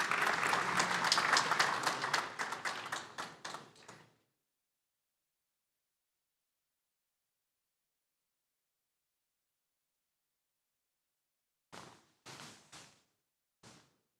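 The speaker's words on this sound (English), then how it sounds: "Sous vos applaudissements," Clapping from a forum audience at the Lake Chad Basin Governors' Forum, strong for about four seconds and then fading. After a long silence, a few isolated claps follow.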